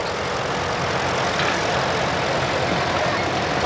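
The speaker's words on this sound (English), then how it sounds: "steam traction engine." A Buffalo Pitts steam traction engine runs at a 1986 Oregon farm fair parade with a steady, continuous low mechanical rumble and chuff, moderately loud, with no clear speech.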